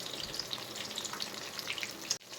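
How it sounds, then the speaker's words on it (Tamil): Cut vegetables for sambar, including drumstick, broad beans, radish and green chillies, sizzle and crackle steadily in hot oil in a pan, with a faint, continuous close-up fry that stops abruptly at the end. "எண்ணெயிலே காயெல்லாம் நல்லா வணக்கிக்கலாம்."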